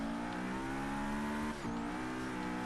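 Car accelerating hard in Forza Horizon 3 on icy tarmac during a hill climb, a loud steady engine drone with rising harmonic pitch, briefly dipping at a gear change before climbing again.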